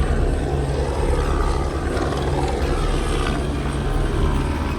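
Steady, loud rotor drone of a police helicopter overhead in Los Angeles at night, a continuous throbbing rumble with no voices, constant in level throughout.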